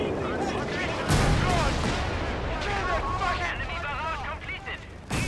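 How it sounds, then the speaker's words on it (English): A creeping artillery barrage in a strategy video game rumbles with heavy booming impacts, a strong blast around a second in, under almost constant voice chatter. "Creeping barrage. Oh god. Give us some space. Here we go again."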